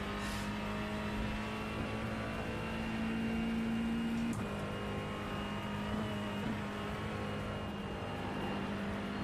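A race car engine drones steadily in the iRacing sim racing game, a constant hum that holds fairly level with slight changes in pitch and no talking.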